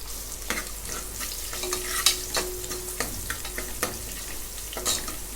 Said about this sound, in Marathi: हे पण भाजून घेते आलं लसूणची पेस्ट